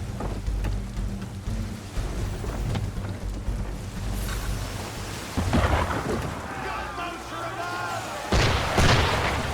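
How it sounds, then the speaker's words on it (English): Ship cannon fire at sea in Assassin's Creed 3, heavy rumbling booms that roll like thunder over wind and rain-like wash, with voices talking amid the barrage. "Why is he shooting at us?"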